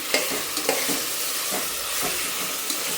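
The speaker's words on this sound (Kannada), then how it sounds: "ಇದರಲ್ಲಿ ಈರುಳ್ಳಿ ಟೊಮ್ಯಾಟೊ ಎಣ್ಣೆ ಫ್ರೈ ಮಾಡಿಕೊಂಡು ಆಮೇಲೆ ಸ್ಪೈಸಸ್ ಹಾಕ್ಕೊತೀನಿ" Chicken frying with onion and tomato in oil sizzles steadily in a pan, with a utensil stirring and scraping at intervals, close and fairly loud with no talking.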